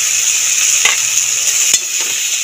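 Prawns frying and being stirred into a spiced masala for a Bengali ol chingri dalna, giving a steady bright sizzle with a few scrapes of the spatula in the pan.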